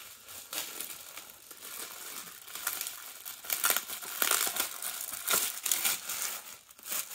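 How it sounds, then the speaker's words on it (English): Plastic packaging from a mail delivery crinkles and rustles as an item is pulled free, a steady close-up crackling that grows busier and louder partway through, with no talking. "take it out of the plastic so it doesn't glare"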